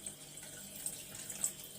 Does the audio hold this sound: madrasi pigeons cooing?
no